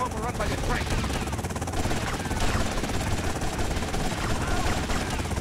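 Helicopter rotor chopping in the video game GTA Vice City, a steady loud drone mixed with bursts of gunfire and game action throughout.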